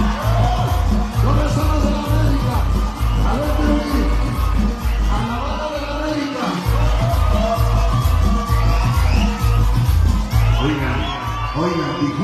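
A large crowd of Club América fans at a sound-system party in Xochimilco shouts and cheers together in a loud, continuous roar, with whoops and yells rising over a dense, steady wall of voices.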